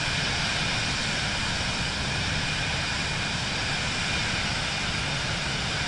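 Aircraft engine in cruise flight at about 3,000 feet and over 200 knots in Microsoft Flight Simulator 2024, a loud, steady broadband drone that stays constant throughout with no talk.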